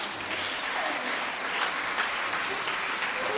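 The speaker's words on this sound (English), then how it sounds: "You have to keep clapping until she arrives" An audience claps steadily for a guest arriving at a community event in Greater Accra. Dense, continuous applause holds at an even level throughout.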